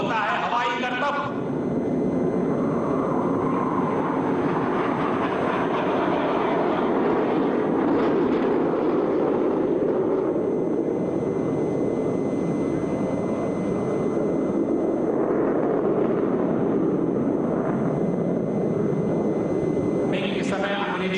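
Military jets roaring through aerial stunts at a navy demonstration, a continuous heavy engine rumble with swelling passes throughout, heard beneath a commentator talking.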